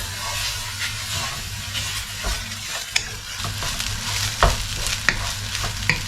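Cooked rice being mixed in a pan while reheating leftover food, a continuous sizzling hiss with a low rumble beneath and a few sharp scrapes and knocks of the spoon against the pan.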